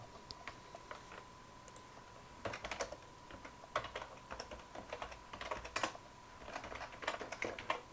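Password being typed on a computer keyboard, a quiet run of irregular clicking keystrokes in short bursts over a faint steady hum, with no voices.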